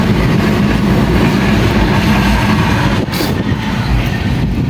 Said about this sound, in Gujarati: ટ્રેન તો જતી રહી છે